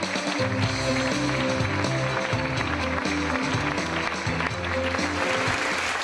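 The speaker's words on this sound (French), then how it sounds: "Vous pouvez les applaudir." An audience at an awards ceremony applauds continuously, a dense wash of clapping over tonal music in the background.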